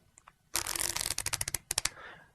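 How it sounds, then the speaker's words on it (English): A deck of playing cards is shuffled up close, a quick burst of crisp riffling flutter followed by several sharp snapping taps as the cards settle and square up. "After the shuffle"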